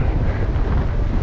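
Strong crosswind buffeting a cyclist's microphone on an open road, a loud, continuous low roar with rumbling gusts and no voices.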